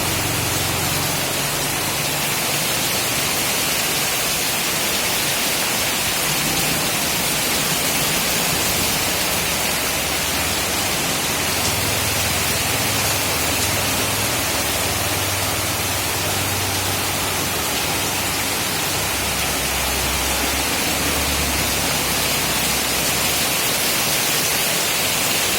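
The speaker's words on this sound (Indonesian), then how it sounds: "Jogja diguyur hujan deras." Heavy rain pours down in Yogyakarta, a dense, unbroken hiss of downpour that stays loud and constant for nearly half a minute with no voices over it.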